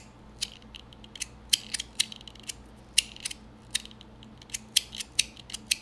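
A fidget spinner's plates give off a rapid run of sharp, close clicks and zippery, squeaky ticks. The bursts come in an irregular rhythm over a faint hum, and there is no talk.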